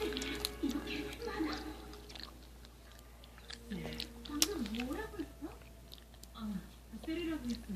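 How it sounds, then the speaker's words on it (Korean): Chewing of spicy jelly candy, soft wet mastication sounds repeating close to the mic, with a person talking over much of the chewing. "일단 한번 먹어 한 입만 먹어보도록 하겠습니다"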